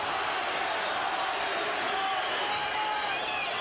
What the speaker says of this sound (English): Chant of Tony from this crowd.